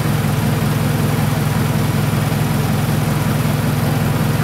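A Toyota Camry engine, repaired after a broken timing belt, idles steadily with a loud, even low rumble and rhythmic pulsing throughout, no voices present.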